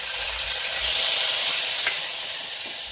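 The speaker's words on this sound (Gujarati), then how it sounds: "ટામેટું સરસ ફ્રાય થઈ ગયું છે" Chopped tomato sizzling and frying in hot oil with garlic, a steady close hiss with occasional stirring and no talk.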